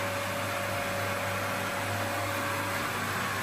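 A swimming pool filter pump runs with a steady, even mechanical hum and hiss, constant and unbroken throughout with no talk.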